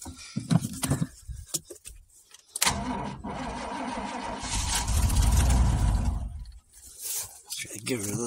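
An old, mouse-infested car bought cheaply off a marketplace listing cranks and then catches, its engine rumbling loudly and settling into a steady idle before cutting back, with clicks and someone talking over the start.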